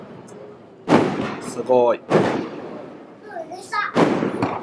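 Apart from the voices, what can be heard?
fireworks exploding at night at a resort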